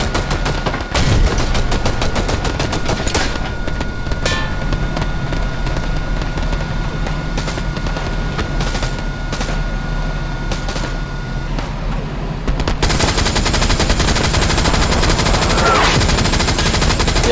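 Sustained machine gun fire in the WWII shooter Hell Let Loose on the Foy map, loud rattling bursts over a rumbling tank engine with scattered gunshots, the firing intensifying near the end.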